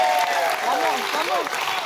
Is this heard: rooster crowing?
no